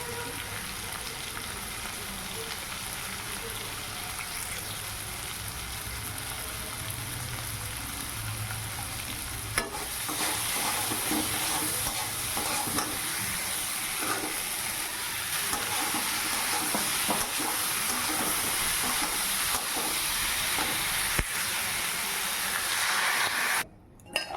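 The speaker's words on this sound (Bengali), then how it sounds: "এখন লঙ্কা লবণ হলুদ দিয়ে ভালো করে আলুটাকে কষিয়ে নিয়ে" Potatoes sizzle and fry steadily in a pan with chilli, salt and turmeric, a continuous close hiss with occasional stirring scrapes and no talk.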